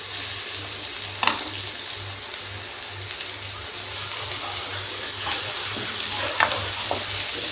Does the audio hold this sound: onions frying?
yes